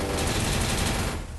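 Rapid automatic gunfire in the Free Fire battle royale game, fired at an enemy vehicle, a loud continuous burst of shots lasting the whole moment and tapering slightly at the end.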